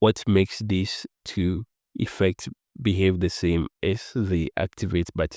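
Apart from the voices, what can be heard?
No everyday noises stand out.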